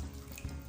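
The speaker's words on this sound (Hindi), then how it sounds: "ये मैं इसमें ऐड कर रही हूँ 1 गिलास पानी।" A glass of water is poured into a cooking pan of carrots and rice for sweet kheer, a brief, soft splashing gush.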